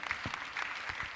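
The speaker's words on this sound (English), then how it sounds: "Please give a round of applause for him." Brief burst of clapping from a small group at an edtech conference in Abuja, moderately faint, with scattered hand claps.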